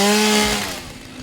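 A chainsaw cuts a tree in the video game Satisfactory, a loud buzzing engine whine that drops in pitch and fades within about a second.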